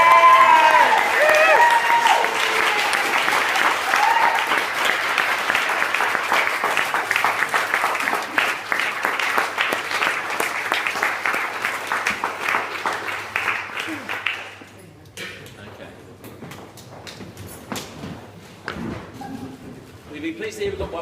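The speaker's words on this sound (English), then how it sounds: "Stand up and please give them a great cheer." Wedding guests break into loud, sustained applause and cheering for the couple at the reception, a dense crowd roar filling the first fifteen seconds before thinning to scattered claps and murmuring voices.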